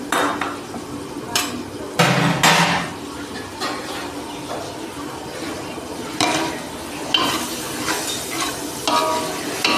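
Tempering of dried red chillies, cumin, a little mustard seed and chana dal frying in hot oil in a home kitchen, a close sizzle broken by a few louder pops and spatters, with stirring and utensil clatter.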